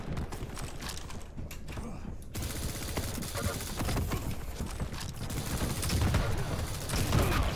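Rapid weapon fire crackles in a fast arena match of the shooter Quake Champions, steady and layered over busy game noise, with someone talking intermittently.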